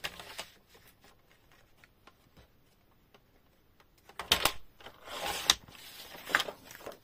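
Paper being cut for a layered scrapbook card, with quiet scattered taps and ticks followed by several louder crisp slicing or trimming strokes near the end.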